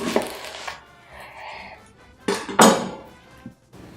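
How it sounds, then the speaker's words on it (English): A knife slices an onion in half on a cutting board, giving a couple of sharp, close cutting thuds and knocks with quieter handling sounds between them. "And then we're going to cut the onion in half."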